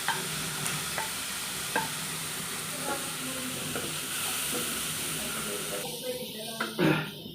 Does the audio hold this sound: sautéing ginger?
yes